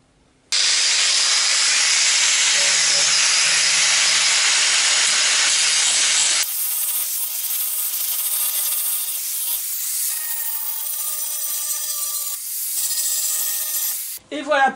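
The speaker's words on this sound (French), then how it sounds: "je vais avoir quelques petits excédents de soudure à retirer" Abrasive grinding of excess weld on a car body panel, near the rear trunk hinges of a Citroën Traction 11B, a loud steady hissing rasp that shifts to a harsher pitch partway through, then cuts off abruptly.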